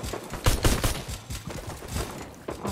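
Pistol gunfire in the video game Fortnite: a quick series of sharp shots at uneven intervals, moderately loud, with no talk over them.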